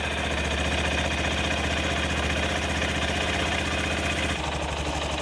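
A Honda CB125F motorcycle engine idles steadily and close by, with a low, even rhythmic chug and mechanical vibration throughout; there is a slight change in tone near the end.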